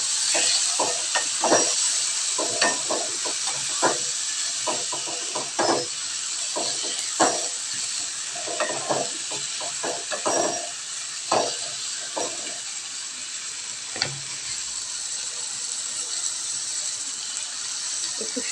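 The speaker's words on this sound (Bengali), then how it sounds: "তো দেখো ফাইনালি আমি মাংসটা কড়াইতে দিয়ে দিয়েছি।" Meat frying in a kadai, a steady bright sizzle running throughout with frequent short scraping and clinking strokes of stirring, close and fairly loud, no talk.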